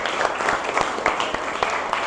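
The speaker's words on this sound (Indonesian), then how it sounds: "Tepuk tangan lagi untuk" A school class in a statistics lesson claps together in a steady, rhythmic beat, each clap sharp and evenly spaced over a continuous background of room noise.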